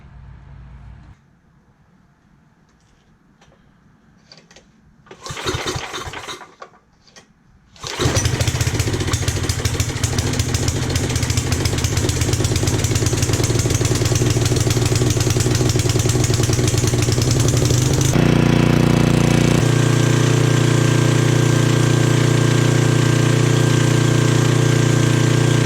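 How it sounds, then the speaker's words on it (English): A small portable generator is cranked with a few brief pulls and sputters, then catches and roars into a loud, steady running drone close by, its tone shifting to a rougher, heavier hum toward the end. "crank the engine up and get the oil warm so it drains out easily."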